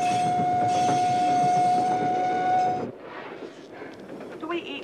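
A moving train with a steady rumble and a sustained horn-like tone for the first few seconds, then a quieter interior rattle as it carries on.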